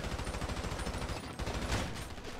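Rapid automatic gunfire in GTA Online, a dense, continuous rattle of shots with heavier bursts near the end, loud and close throughout.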